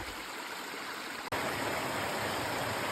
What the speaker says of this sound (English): A little bit of water coming out of the ground.